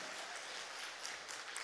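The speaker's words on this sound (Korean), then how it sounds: "우리 하나님 앞에 영광의 박수 올려드립니다" Congregation at a prayer retreat giving a round of applause, a brief, faint, even patter of many hands clapping.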